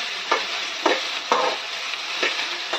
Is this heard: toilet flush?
no